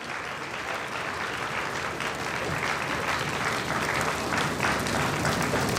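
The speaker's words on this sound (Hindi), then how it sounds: "एक बार जोरदार तालियों से ओम प्रकाश जी का आप अपनी स्थान से ही सम्मान करें" Steady, dense applause from an audience at an Indian temple consecration festival, a full crowd clapping continuously and evenly for several seconds without a break.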